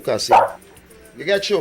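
A dog barks a couple of times close by, mixed in with someone talking over it.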